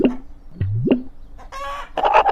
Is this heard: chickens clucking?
yes